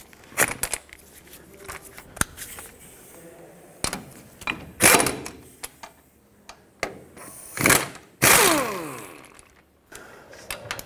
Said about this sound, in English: Let's snug them up and then torque them to 136 foot-pounds.